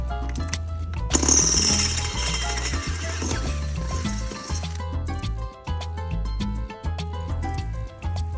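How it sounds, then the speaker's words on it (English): A power drill bores a hole for a bolt while a homemade roof sign is built, a loud, steady whining grind from about one to five seconds, followed by quieter irregular clattering and knocking. "Now that you've finished drilling the hole"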